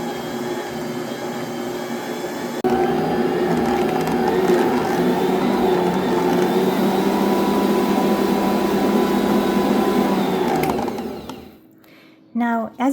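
A stand mixer kneading bread dough at medium-high speed, a loud, steady motor whir with a rhythmic mechanical rumble that jumps up in intensity, runs evenly, then winds down and stops near the end.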